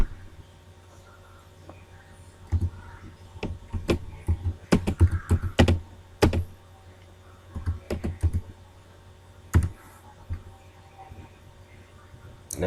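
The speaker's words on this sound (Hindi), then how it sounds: "यहाँ पे मैं अपना पासवर्ड एंटर करूँगा और नेक्स्ट पे क्लिक करूँगा" Someone types a password on a computer keyboard: a short burst of quick, close key clicks with a few isolated taps before and after, in a quiet room.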